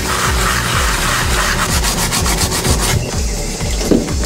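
A big scrub brush scours a removed Whirlpool clothes washer part at a laundry tub, loud rapid back-and-forth bristle strokes up close, with a brief spoken word over the scrubbing.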